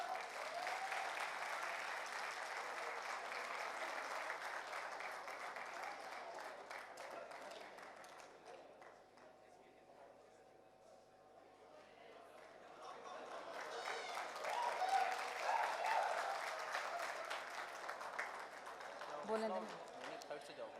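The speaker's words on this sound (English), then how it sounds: "Please give them a round of applause." Audience applause for Team Minerva from NUST at an Imagine Cup 2019 event in Pakistan, a dense sustained clapping that fades mid-way then swells again, with crowd noise and a voice briefly over it.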